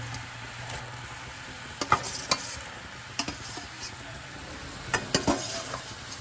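Prawns sizzle quietly in a frying pan while a spoon stirs them, a soft steady hiss broken by scattered scraping knocks and clinks against the pan.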